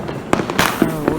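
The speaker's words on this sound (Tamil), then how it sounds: "இப்போ ராக்கெட் வச்சிட்ருக்காங்க" A few sharp Diwali firework rocket bangs and crackling bursts in quick succession, fairly close, with a brief whistling tone trailing between them.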